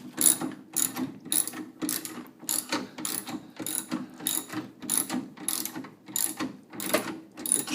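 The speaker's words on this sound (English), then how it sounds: "use your little ratcheting wrench, and just tighten this sucker down" A small ratcheting wrench cranks down the threaded rod of a coil spring compressor on a 1965 Ford Mustang, giving close, loud bursts of rapid clicking in a regular rhythm, roughly ten strokes with short pauses between them.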